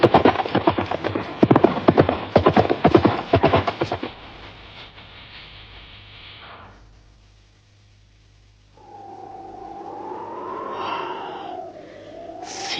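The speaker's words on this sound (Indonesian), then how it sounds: "Mereka naik ke atas punggung kuda, dan sebentar kemudian mereka sudah berkuda di atas jalanan berbatu." Horses ridden over a rocky road, a fast, dense run of close hoof clatter for about four seconds, then fading into low rumble and quiet, followed by a wavering tonal sound near the end.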